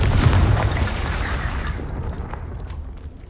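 A Confringo fire spell goes off in Hogwarts Legacy as a loud, booming blast that swells at once and then fades into a rumbling tail over a few seconds, with no voices.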